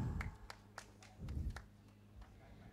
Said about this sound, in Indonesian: Tepuk tangan yang meriah lagi untuk Provinsi Jawa Tengah 5.